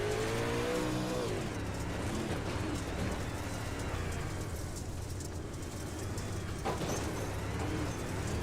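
Onboard race car number 33, driven by Colton Tripp at the Mid-State Showdown in Fairbury, roars continuously and loudly, with the engine pitch rising and falling as it accelerates and lifts through the run.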